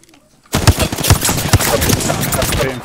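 Dense burst of automatic gunfire from a firefight in the battle-royale shooter Apex Legends, starting abruptly after a quiet moment with sharp, rapid repeated shots that continue loud and close until the end.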